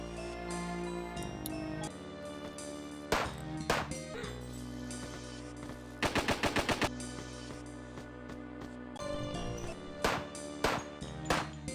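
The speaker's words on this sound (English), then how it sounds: "Dolls show up, you kill them using the guns you have" Gunfire in the Alisa video game arena segment, sharp single shots and a rapid burst of repeated fire around the middle, layered over loud game music with sustained tones.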